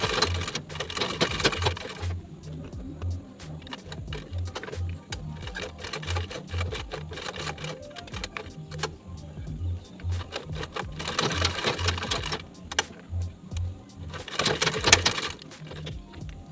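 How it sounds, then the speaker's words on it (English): A sewing machine stitches a bag in several long, fast runs of needle clatter, broken by short pauses, close and steady, with no voices over it. "Now I'm just going to sew."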